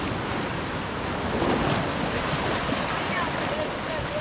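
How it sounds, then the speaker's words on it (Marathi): Steady rushing surf of sea waves with a continuous windy roar, a slight swell in the middle; a voice speaks faintly beneath the wash. "भरती वाढली आता लाटा बघ एवढी येऊ लागली"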